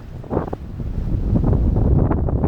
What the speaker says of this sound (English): problem is wind is accelerating